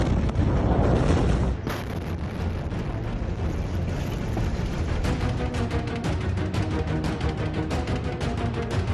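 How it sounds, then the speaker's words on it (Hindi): The massive Beirut explosion that wrecked the city unleashes a loud, close roaring burst, then continues as a dense, sustained rumble with crackling debris noise. "बेरूत का वो धमाका जिसने एक शहर को बर्बाद कर दिया"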